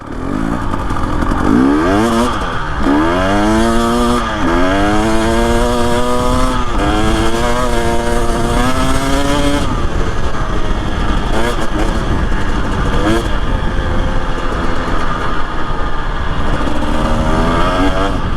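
A 2025 Husqvarna TE 250 dirt bike fitted with a TSP tune and FMF exhaust, revving hard on a test ride with repeated rising and falling throttle sweeps, loud, close and continuous, with a rider talking over it.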